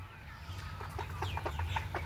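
Chickens on a poultry farm cluck softly in a string of short, quick notes over a low steady hum, faint and some distance away.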